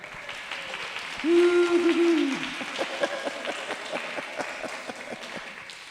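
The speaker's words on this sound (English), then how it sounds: "so we can clap at you" Church congregation clapping to welcome new members, a burst of applause from the audience with a brief tonal sound over it early on, then scattered claps tapering off.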